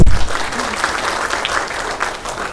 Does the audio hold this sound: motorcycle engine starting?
no